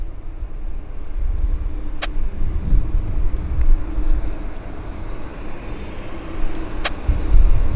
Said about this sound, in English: Flare 601 is landing on the south side.